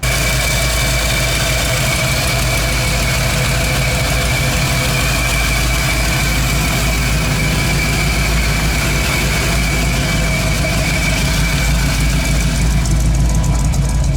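An 1985 car engine with an HEI distributor idles loudly and close at a steady low rumble with constant vibration, unchanging throughout with no talk.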